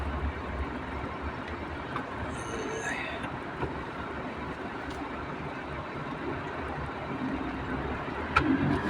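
Heavy road traffic on a busy stretch near Roi Et, a steady, dense engine and tyre rumble that continues without pause, with faint voices murmuring underneath.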